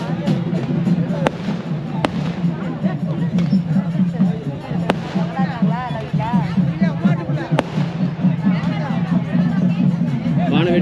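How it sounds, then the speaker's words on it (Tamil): A big crowd at a 300-year-old traditional festival at the Annamar temple fills the air with constant babble and voices. Sharp firework bangs crack out at irregular intervals above the noise. "வான வேடிக்கைகளோட பிரம்மாண்டமாக வந்து திருவிழா கூட்டம் பார்த்துங்க"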